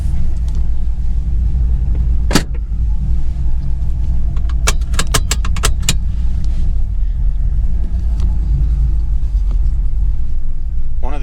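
An LS-swapped car drives around the block, its steady low engine rumble and road noise continuous throughout, with a sharp click and a quick run of metallic ticks or jingles partway through.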